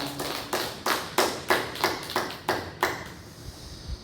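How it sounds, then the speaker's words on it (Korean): Church congregation clapping at a Wednesday worship service, a sparse run of about ten sharp, evenly spaced claps that thin out toward the end, fairly close and with no talk over them. "우리 하나님께 영광의 박수를 드리겠습니다"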